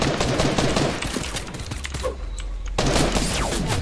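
Dense gunfire from a Fortnite match, packed bursts of shots crackling almost without pause, thinning briefly in the middle before resuming loudly at the end.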